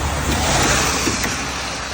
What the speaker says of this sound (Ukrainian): Машина.